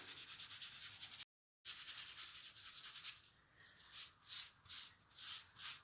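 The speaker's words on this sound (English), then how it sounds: "as you rub that away, the pattern is revealed" Dried ink being rubbed off embossed paper in a card-making technique, a steady dry scuffing that runs close and continuous, breaks off briefly, then turns into a series of separate rhythmic rubbing strokes.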